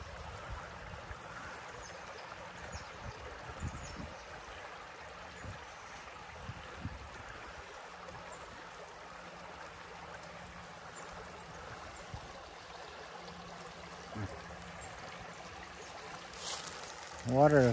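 Stream water flows steadily outdoors along a creek that has dropped back below its banks, a soft, continuous rushing babble that stays fairly faint throughout, with a brief louder rustle near the end.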